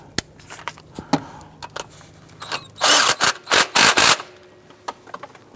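A power tool snugs down the accessory drive belt tensioner bolt on a 2011-2021 Jeep Grand Cherokee, several loud, close bursts of whirring in quick succession, set between scattered clicks and light handling noises.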